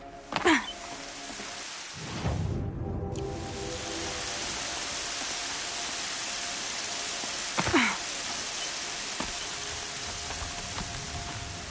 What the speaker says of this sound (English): Rain's been building for long enough.